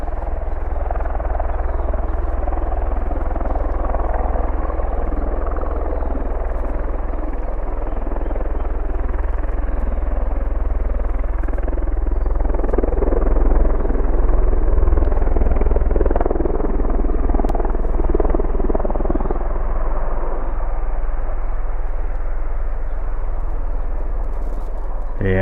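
Aircraft at a live airport during an airshow, a steady loud low roar of engines building and swelling over about twenty-five seconds, broadband rumble filling the background with no talk over it.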